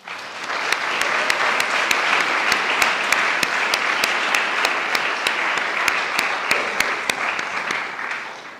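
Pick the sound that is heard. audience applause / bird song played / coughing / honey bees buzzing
audience applause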